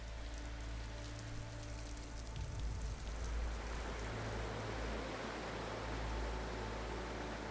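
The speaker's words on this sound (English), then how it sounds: "This heavy, wet season rain has loosened the soil" Heavy wet-season rain pours down steadily in a forest during a storm, a dense, even hiss of drops falling on leaves and ground, faint and continuous.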